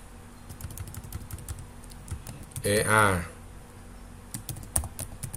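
Rapid key clicks on a computer keyboard, sharp irregular taps running through the whole stretch, with someone speaking Thai briefly over them.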